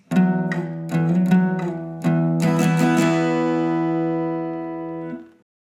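Guitar riff from the third part of a song, played alone: a few picked notes and a quick run of plucks, then a final chord ringing out and fading over about two seconds.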